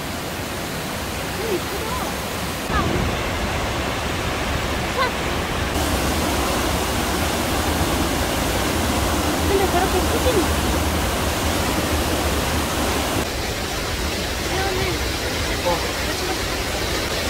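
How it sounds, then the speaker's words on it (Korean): A waterfall seen from a hiking trail gives a steady, loud, broadband rush of falling water that fills the whole stretch, with people talking faintly over it. "폭포가 보인다. 와, 이쁘다."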